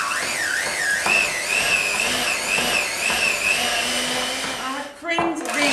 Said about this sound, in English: I'm just going to cream these two together with my whisk